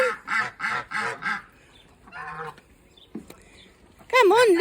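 Nearby ducks give a quick series of quacks, then quieter calls, scattered thumps and a loud nasal goose honk at the end, in a garden kept with ducks, geese and chickens.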